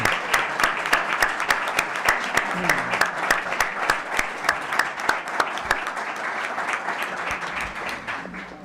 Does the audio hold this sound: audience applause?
yes